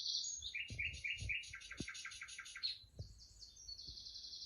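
Small birds chirp and tweet in quick repeated bursts from a television, fairly faint, with a few soft low bumps in the room and no talking.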